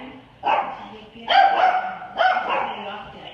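A dog barks in three loud, separate bursts, close by, with short gaps between them.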